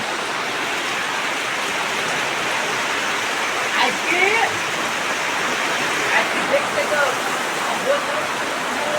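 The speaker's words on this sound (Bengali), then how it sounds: "এইভাবে বৃষ্টি হলে আমরা কি করবো" Heavy rain pours steadily as a dense, even broadband hiss throughout, with a few faint voices rising briefly around the middle and near the end.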